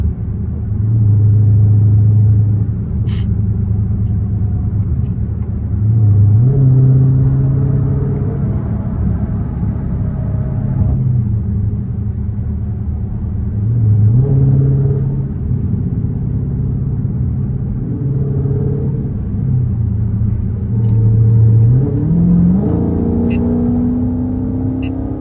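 A loud Scat Pack car engine droning steadily on a highway in rush-hour traffic, with repeated rising revs and gear shifts, heard alone with no voices.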